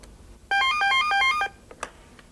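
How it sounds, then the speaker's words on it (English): A telephone rings with a short burst of repeating electronic ringtone pulses lasting about a second, followed by faint clicks and quiet room noise; no one speaks. "I'm going to make another phone call to Joe on his other telephone."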